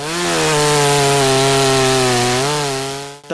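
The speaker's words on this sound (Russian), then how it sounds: "Топор и бензопила – главное оружие против диких кустарников и деревьев" A chainsaw cuts through wild shrubs and trees with a loud, sustained buzzing drone that wavers slightly in pitch, then cuts off abruptly at the end.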